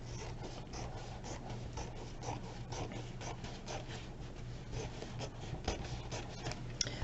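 Scissors snipping and sliding through wedding gown fabric, a quiet continuous run of close, soft cutting and rustling with a faint scratchy texture over a low steady hum.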